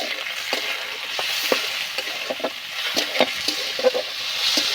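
Spices and chopped tomato fry in a pan for a masoor dal dish with drumstick leaves, a steady hiss of sizzling broken by repeated scrapes and clicks of stirring, close and moderately loud, with no voices.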